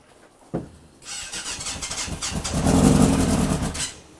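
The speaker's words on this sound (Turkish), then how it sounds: "Şöyle biraz açalım. Neredeyse iki aydır dokunmuyorduk motora." A motorcycle engine left untouched for nearly two months starts with a sharp cough and then revs, rising to a loud, sustained roar before easing off, close by with no talking.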